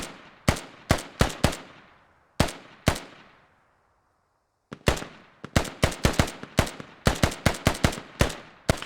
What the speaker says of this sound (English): Militia and Russia trading small arms